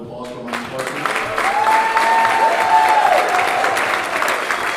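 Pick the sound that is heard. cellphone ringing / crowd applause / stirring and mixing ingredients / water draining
crowd applause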